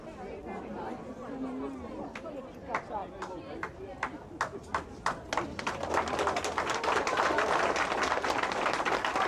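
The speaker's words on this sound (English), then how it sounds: "Then with a round of applause" Crowd at Swindon railway station applauding on the Queen's visit, scattered claps building into broad, sustained applause beneath steady crowd chatter and a talking voice, moderately distant.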